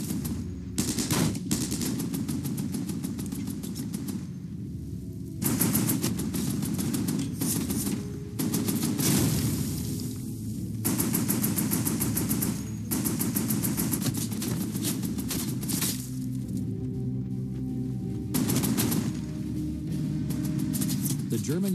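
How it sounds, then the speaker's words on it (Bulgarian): A World War II machine gun fires at German infantry in long, loud, rapid bursts separated by brief pauses, with other gunfire mixed in. "хваща картечницата и стреля отново по германската пехота"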